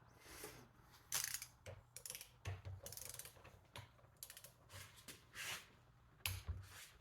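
A torque wrench ratchets in quick, close clicking bursts while bearings are seated and torqued on a Ford 8-inch rear end during a Mustang project build, faint and with pauses between strokes.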